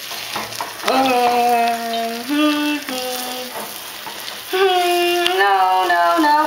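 An egg fries in a pan with a steady sizzle and crackle, partly covered by loud voices talking over it.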